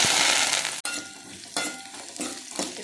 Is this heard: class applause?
no